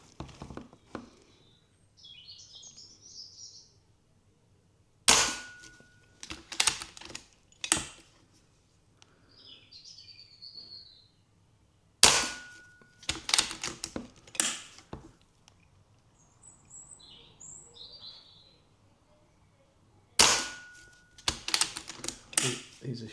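Kral Arms Puncher Jumbo Hi-Cap air rifle firing pellets in a series of sharp, loud shots, one at roughly each five-second mark, each followed by quick mechanical clatter, with quieter rustling and handling noise between shots.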